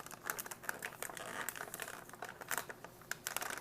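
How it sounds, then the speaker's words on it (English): A plastic bag from a 2010 U.S. military MRE ration pouch, Menu 19 Beef Roast with Vegetables, is zipped closed up close, giving a quick run of dry crinkles and small ticking clicks, with no talk. "Go ahead and zip this thing closed."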